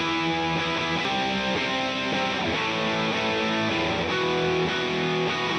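Distorted electric guitar playing sustained chords, with a bright high-end buzz over it, heard alone through a soloed multi-band limiter band, steady and loud throughout with no talking.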